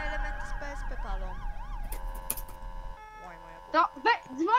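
A wailing ambulance siren in the Roblox game sweeps up and down, then cuts out, followed by short electronic tones and bursts of voices.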